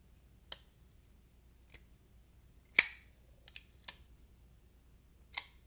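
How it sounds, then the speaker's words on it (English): A Kizer Militaw folding knife with micarta scales, steel liners and a Nitro-V blade snaps on its detent in a quiet room: five or six sharp, isolated clicks spaced irregularly, one noticeably louder, with no talking. "Very snappy detent"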